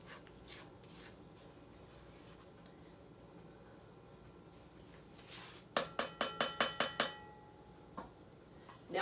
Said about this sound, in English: I'm going to scrape the sides.